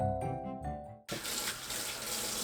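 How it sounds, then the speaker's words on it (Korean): Burdock root is washed under a running kitchen tap: after soft music, a steady, close gush of water starts abruptly and keeps flowing. "우엉을 씻어주세요."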